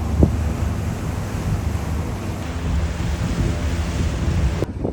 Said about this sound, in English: So this is the Lady Bowen waterfall.